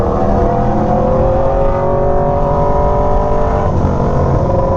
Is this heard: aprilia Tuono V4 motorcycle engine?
yes